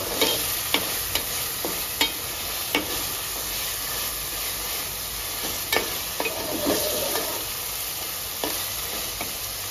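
Ginger garlic paste fries in a pan for methi mutton curry, a steady close sizzle with scattered sharp clinks of a stirring spoon against the metal every second or so.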